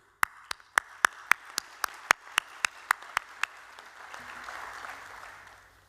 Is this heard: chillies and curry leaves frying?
no